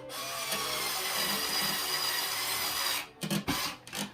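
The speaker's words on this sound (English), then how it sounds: "just press the screw in, and then you put your screwdriver on it" A screwdriver drives a screw into a wall, giving a steady, close grinding rasp for about three seconds, then a few short scraping twists before stopping.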